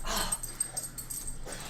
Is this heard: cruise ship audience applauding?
no